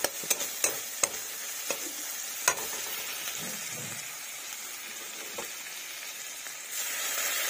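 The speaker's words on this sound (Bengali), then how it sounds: "এখন মশলা কষানো হচ্ছে চিংড়ি মাছের জন্য ভালো করে কষিয়ে নিচ্ছি" Spice paste for prawn curry sautéing in oil in a pan, a soft continuous sizzle with a few sharp utensil taps early on and a gentle bubbling swell near the end.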